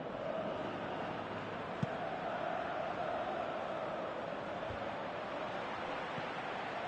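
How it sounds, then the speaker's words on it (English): A stadium crowd in the PES 2018 football video game gives a steady, broad roar that stays at an even level with no distinct cheers or chants standing out. "you can feel and hear how the crowd are reacting to all of this"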